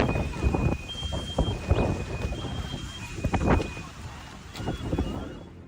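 Strong gusty wind in the city of Huatu, Zhejiang Province, China, buffets the microphone in loud, uneven bursts and rumbles that rise and fall over several seconds.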